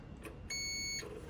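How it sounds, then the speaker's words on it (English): A single steady electronic beep, about half a second long, comes from an ohm meter set to its audible continuity function as its probes touch a gas dryer thermal fuse, clear against a quiet background. "you can set your ohm meter to audible function, meaning when you touch your two prongs, you'll have a beep"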